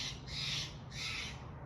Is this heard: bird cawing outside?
yes